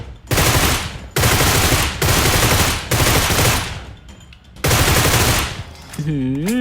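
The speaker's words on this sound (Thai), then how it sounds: "ยิงทะลุรถครับ" Rapid automatic gunfire in PUBG Metro, fired through a car, comes in several long loud bursts separated by brief pauses, with a voice speaking briefly at the end.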